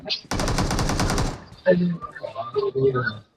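Rapid automatic gunfire in a shooting video game, a loud sustained burst for about a second, followed by game sounds and a player's voice talking.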